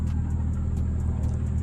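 A Nissan 350Z with a muffler delete exhaust idles with a deep, steady rumble, close and loud, with a faint ticking texture over the low drone and no change in pitch.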